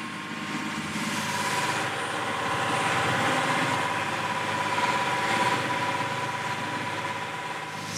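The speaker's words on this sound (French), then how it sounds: "Le bruit assourdissant du moteur casse les têtes." A boat's deafening engine in stifling heat, droning steadily and loudly throughout with a constant low hum and mid-range rumble, and no other sounds over it.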